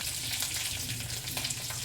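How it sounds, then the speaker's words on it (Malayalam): Mustard seeds, dried chillies and curry leaves fry in hot coconut oil, a steady bright sizzle with faint crackles and pops, close and continuous without any voices. "ഇനി നമുക്കിതൊന്ന് വറുത്തെടുക്കാം"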